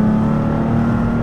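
A custom-built Porsche 911 engine drones steadily while driving, a smooth, even hum heard close from inside the car with no clear change in pitch.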